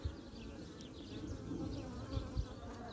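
Honeybees buzzing close by at a small queen-mating nucleus hive with bees brought from the forest, a steady soft hum with a few nearby insects darting past, plus light handling thumps.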